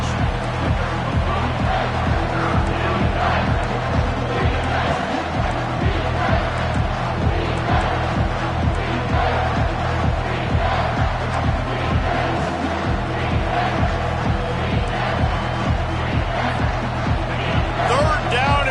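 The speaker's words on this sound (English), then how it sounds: "This crowd will blow out a vocal cord to help this defense." A large stadium crowd at a Tennessee home football game against Oklahoma roars continuously at high volume, a steady wall of cheering and yelling with a commentator's voice talking over it.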